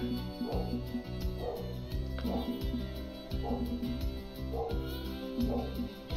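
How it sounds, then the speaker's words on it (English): A dog barks and yips in evenly spaced bursts during a Fishing Planet bass-fishing session, sounding somewhat distant and riding over a constant tonal musical background. "Sounds like there's a dog having a fit out there."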